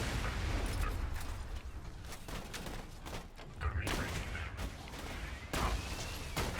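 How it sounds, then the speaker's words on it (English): Barrels are shot and burst in rapid explosive blasts during Borderlands 2 gameplay, dense gunfire and booms packed together loudly, with a voice talking underneath. "Blowing up some of the barrels preemptively here and letting the exploder deal with himself"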